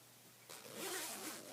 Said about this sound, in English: The zipper actually works.